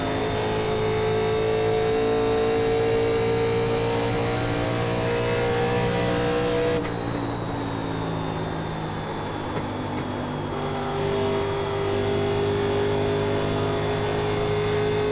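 A 1987 NASCAR stock car in iRacing holds full throttle, its engine a loud, steady high drone with a pitch that stays near-constant and shifts slightly, sustained for the whole stretch with no voices.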